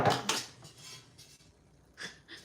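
A non-stick baking sheet is handled and set down, giving a few light metallic clanks and scrapes spaced unevenly, close and fairly faint.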